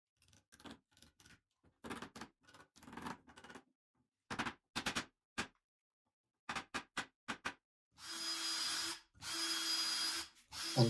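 A power drill drives screws into a wooden bunk bed frame in short repeated bursts separated by silences, ending with two longer, steadier whirring runs, close and fairly quiet.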